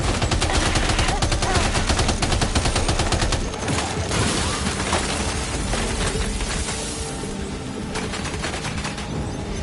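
Rapid, sustained gunfire from a Death Stranding 2 firefight, dense overlapping bursts that stay loud throughout and ease slightly partway through.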